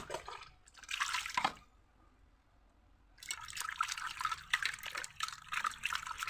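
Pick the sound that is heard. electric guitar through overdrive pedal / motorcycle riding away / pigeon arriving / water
water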